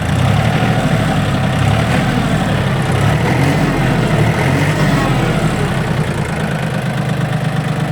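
A Yanmar F18D Japanese mini tractor's engine runs loud and close, revving up into a steady low chugging drone that holds an even rhythm throughout with no clear pauses.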